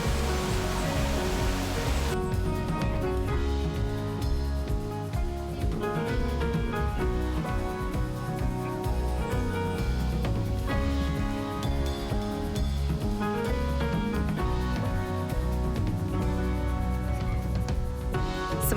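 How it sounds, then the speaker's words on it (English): Waterfalls pour down rocks along a creek in El Yunque rainforest after a week of heavy rain, making a steady, dense, unbroken rushing roar that stays constant throughout, with no talking. "Waterfalls everywhere."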